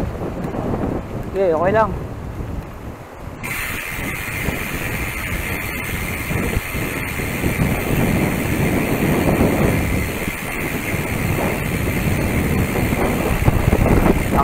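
Strong wind buffets the microphone during a year-end ride, a loud, continuous rumbling roar with gusts, with brief talking near the start.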